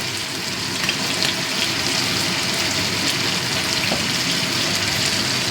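Tomatoes softened in a pan with turmeric powder added, frying in a loud, continuous sizzle with faint stirring scrapes and bubbling, no voices over it.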